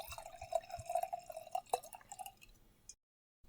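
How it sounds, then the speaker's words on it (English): Sake poured from a freshly opened premium bottle into a glass, a close, quiet trickle of drips and glugs lasting a few seconds before stopping abruptly. "let's pour this into the glass"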